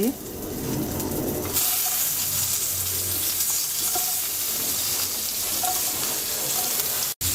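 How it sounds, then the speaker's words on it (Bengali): Cauliflower fries in a pan with turmeric and salt, a loud, steady sizzle that surges as pieces hit the oil, with brief stirring clinks. "এবার আমরা ফুলকপিগুলো ভেজে নেব"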